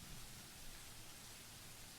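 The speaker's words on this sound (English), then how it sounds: "The rhythmic pitter-patter of the rain fills the early morning silence with a steady beat." Steady rain patters in the early morning, a faint, even wash of drops that carries on without a break and with no voices.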